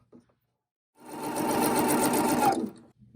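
A domestic sewing machine stitches a quarter-inch hem along the long side of pillow-cover backing fabric, a loud, close, steady mechanical whir running for about a second and a half before stopping.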